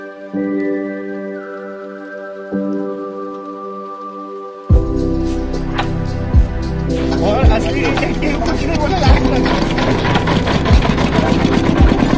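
Motor boat engine droning on a foggy lake, a steady low hum through the opening seconds that swells into a louder, rough churning rumble with rattly knocks from about five seconds on, fairly close and continuous.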